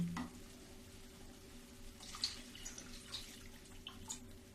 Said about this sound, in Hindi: अब 1 गिलास मैं इसमें पानी डालूंगी।